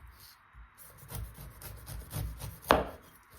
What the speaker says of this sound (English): And then we're just gonna slice off the peel